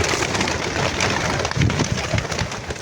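Pigeons coo softly in low, rolling murmurs beneath a steady rustling background noise, several birds close by.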